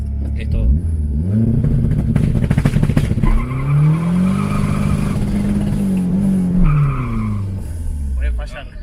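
Turbocharged VW Gol 1.6 engine revving hard, a loud sustained roar rising and falling in pitch with turbo whine, heard up close while people talk over it.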